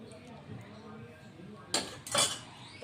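Plates and cutlery give two quick, faint clinks while ragda puri chaat is being plated, over a quiet kitchen background.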